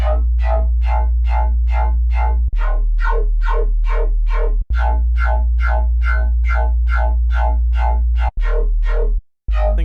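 Phase distortion synthesizer playing a fast, repeating buzzy riff of evenly spaced notes, loud and upfront, with a few brief gaps and a cut near the end.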